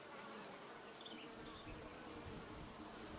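Honeybees buzzing steadily around an opened horizontal hive during a colony split, a dense continuous hum close by with no talking.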